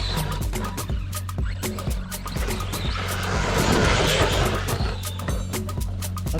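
An ARRMA Big Rock 3S BLX V3 RC truck runs at full throttle, its electric motor giving a loud, high-pitched whine that swells into a rushing roar and then eases, continuous and close throughout.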